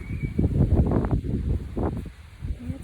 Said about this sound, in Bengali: দেখো বাতাস কি হচ্ছে